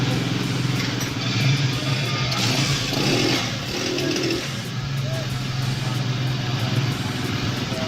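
Honda CG 125 motorcycle engine running rough and misfiring, a steady, fairly loud mid-pitched mechanical drone with uneven pulsing, heard up close under faint background voices.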